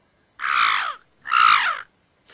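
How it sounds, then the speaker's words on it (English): Two loud, harsh crow caws, each drawn out and rasping, with a brief pause between them and the start of a third at the end. "Ravens, crows, rooks caw."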